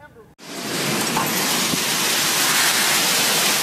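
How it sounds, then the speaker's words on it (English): Pea-sized hail pounds a residential neighborhood in Wheat Ridge during a storm, starting abruptly after a brief pause and turning into a loud, dense, continuous roar of hits that holds steady to the end. "Pea-sized hail pounding Wheat Ridge."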